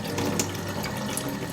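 Water poured from a tap into a cooking pot before rice is added, a steady close splashing and trickling stream with no voices.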